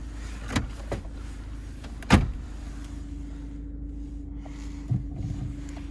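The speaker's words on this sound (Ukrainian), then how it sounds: "Чотири склопідйомника." Electric windows whir up and down inside a Volkswagen Passat B7 1.6 diesel, a steady motor hum running throughout, punctuated by three sharper clunks as the glass reaches its stops, with no talk.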